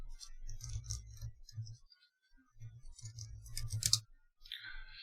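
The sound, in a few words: pressing Windows key and P on computer keyboard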